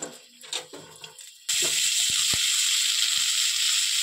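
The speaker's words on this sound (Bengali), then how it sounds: "এবার এটাকে আমি হালকাভাবে নেড়ে নিব।" Boiled flat beans added to a pan with nigella seeds, a chilli and a bay leaf for Bengali chutney, bursting into a loud steady sizzle after a few soft clatters, with occasional faint stirring knocks.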